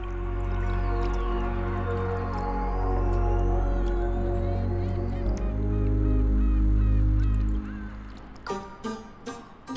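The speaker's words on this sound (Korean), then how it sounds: "하천의 흰뺨 검둥오리들도 때맞춰 합류를 하네요." Spot-billed ducks on an urban stream by exposed tidal mudflats give honking calls over a steady low background, ending in a few sharp clicks and splashy sounds.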